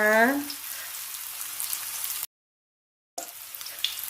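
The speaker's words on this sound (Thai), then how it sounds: "เรามาทอดกินเองดีกว่า" Pork-filled wontons fry in hot oil over low heat, a steady close sizzle and crackle that cuts out briefly, then resumes.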